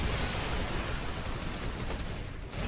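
Sustained, dense gunfire as several players shoot at a legendary zombie in Fortnite, a continuous loud wash of overlapping shots with no pauses.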